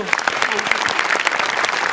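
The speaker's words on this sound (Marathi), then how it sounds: "जोरदार टाळ्या" Loud, dense applause from an audience at a Marathi comedy stage performance, a steady close roar of many hands clapping throughout with no pauses.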